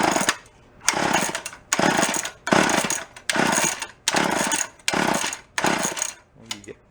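An antique gas-powered drill engine runs close by in loud, rhythmic surges, roughly seven pulsing bursts of rough engine noise with brief dips between them.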